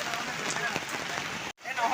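Rain falls on a tarpaulin with a soft, dense patter and scattered sharper drops, while a voice talks over it; a brief gap of silence cuts in near the end.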